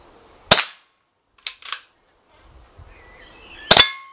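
A Daystate Alpha Wolf air rifle in red laminate fires without its sound moderator: two sharp, loud cracks a few seconds apart, with quieter mechanical clicks of cocking in between.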